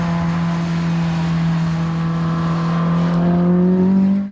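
A Ferrari 458 supercar roars at speed on a racetrack, a loud sustained engine note that climbs steadily in pitch as it accelerates, heard from on board with no talk.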